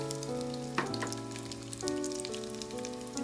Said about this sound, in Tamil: இப்போ எண்ணெயும் சூடாயிடுச்சு. இதில் நான் வந்து வெட்டி வச்சுருக்க வெங்காயத்தை சேர்க்குறேன்